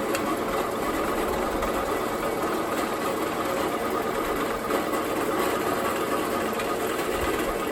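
A drill with a small carbide bit bores into metal, producing a loud, continuous whirring motor buzz that stays steady and close for the whole stretch, with no talking.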